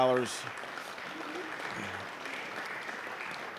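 Soft, distant applause from a convention audience in North Carolina rises after a brief voice at the start and continues as a steady, low patter for several seconds.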